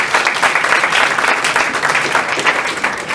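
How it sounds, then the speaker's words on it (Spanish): A steady wash of applause from a crowd, dense clapping filling the whole stretch at an even, loud level. "Fuerte el aplauso."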